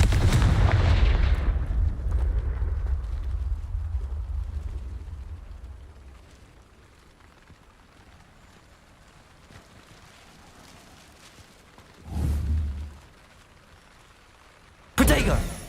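Confringo spell blasts in Hogwarts Legacy: a loud booming blast at the start fades into a long rumbling tail, followed by a short thump and then a sharp burst at the end, with game ambience throughout.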